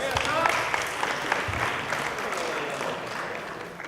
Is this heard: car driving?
no